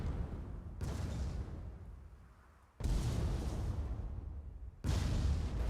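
Mine shots blasting in a Sky League aerial combat match, three heavy broadband bursts in sequence, each landing abruptly and rumbling on with a low roar that slowly fades before the next hits.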